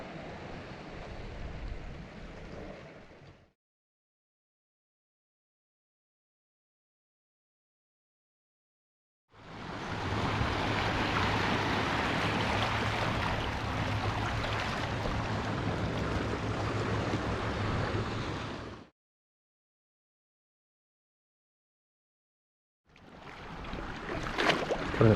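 Fast-flowing spring tide water at Freshwater Bay, Ilfracombe, a steady rushing wash of waves and current heard in three separate stretches broken by silent gaps.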